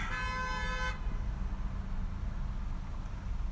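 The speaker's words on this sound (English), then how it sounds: "how you constantly hear people blow their horns" A car horn honks in a steady blast on a busy street for about a second, then cuts off, leaving constant low traffic rumble and road noise.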